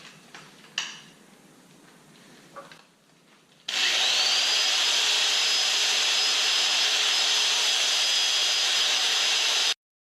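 A buffing wheel loaded with white rouge polishing compound works an aluminum motorcycle fork, starting abruptly after some quieter handling noises and then running as a loud, steady, close whir for about six seconds before cutting off.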